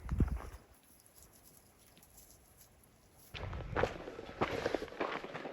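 Hooves of a horse near the Rio Grande at Big Bend, walking close by, several soft irregular clops rising after a quiet stretch of outdoor background.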